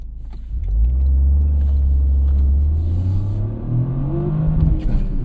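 A Toyota GR Corolla engine revs up toward the red line, rising steadily into a loud, close growl that holds near the top before easing and climbing again.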